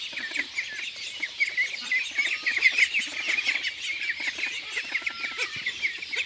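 Sick ducks on a duck farm call steadily, a dense bed of quacking and chirping with no one talking.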